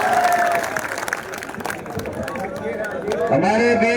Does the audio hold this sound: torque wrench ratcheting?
no